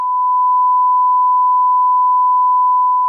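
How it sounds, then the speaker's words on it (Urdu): A censor beep covering a spoken name: a loud, steady, pure electronic tone that runs unbroken for about three seconds, cutting off sharply. "آپ ان میں سے ایک کو بیپ کر دیں گے"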